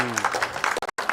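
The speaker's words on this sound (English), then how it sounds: "Gets the applause, rightly so." Spectators at the WSF World Doubles Squash Championships applauding a winning shot on court, a brief burst of clapping under a commentator's voice, breaking off abruptly near the end.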